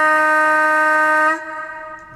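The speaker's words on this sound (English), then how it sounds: "Very, very distinctive air horns this loco has." Model Class 55 Deltic locomotive air horns play through DCC sound, a loud, close, chord-like blast held for over a second before cutting off abruptly, leaving a faint lingering tail.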